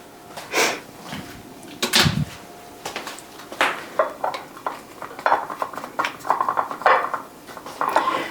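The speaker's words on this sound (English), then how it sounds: "I'm going to stir this up." A spoon clinks and scrapes against a bowl while keto pina colada cookie mixture is stirred, making irregular clattering strokes that grow busier and quicker toward the end, up close and with no talking.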